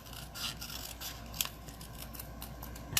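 Scissors snipping through cardstock for a Stampin' Up! walrus-themed paper craft, a few quiet crisp cuts with two sharper snips standing out, close and alone with no talking.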